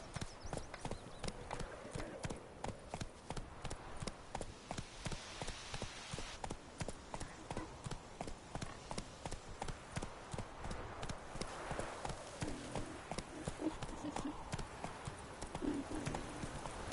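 Horse hooves gallop in a steady, rapid clip-clop through The Witcher 3, the rhythm running the whole stretch at close range with a brief whinny and faint background voices.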